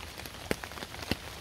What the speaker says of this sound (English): I don't think it's really raining so much as it is blowing out of the trees